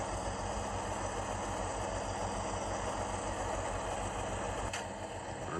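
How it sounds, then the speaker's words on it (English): A model GE CW44AH diesel locomotive's sound decoder runs its engine at steady elevated RPM, a continuous droning rumble with mechanical vibration, loud and unbroken, with a brief click near the end. "Hear the RPMs getting higher."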